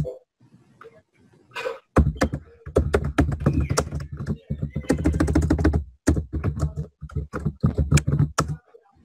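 A street address is typed on a computer keyboard, producing close, crisp key clicks in quick irregular runs with brief pauses. Faint talking is heard near the start.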